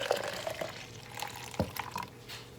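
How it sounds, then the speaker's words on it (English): Juice poured into a cup, with a few faint liquid trickles and drips over a quiet background and no talking. "So I'm gonna go ahead and I'm gonna pour my juice"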